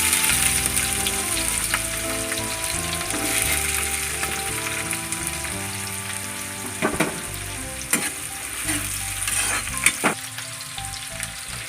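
Finely chopped onion, about 100 grams, sizzles in a pan with cinnamon, cloves, star anise, stone flower and cardamom for chicken pepper gravy: a dense, continuous frying hiss with occasional stirring scrapes and pops.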